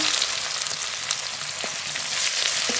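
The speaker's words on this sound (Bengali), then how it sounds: "পেঁয়াজটা একটু হালকা ভেজে নেব" Chopped onion frying in hot oil with bay leaf, dried chilli and whole cumin in a pan for Bengali fish curry, a steady close sizzle with faint stirring clicks, no talk.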